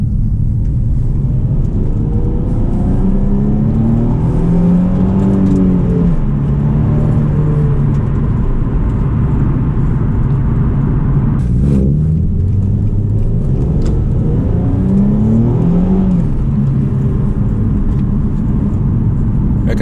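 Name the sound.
car engine running and revving while driving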